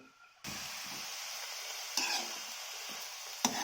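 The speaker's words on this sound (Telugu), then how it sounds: "అది బాగా ఇంకే వరకు ఫ్రై చేసుకోవాలి." Amaranth leaves sizzle and crackle steadily in a frying pan, a constant close hiss broken by a few sharper stirring scrapes and clinks.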